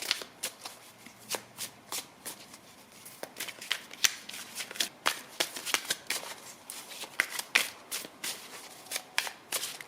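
Tarot cards shuffled in the hands during a card reading, a steady run of crisp riffling flutters and soft slaps repeating close by for about ten seconds, with no talking.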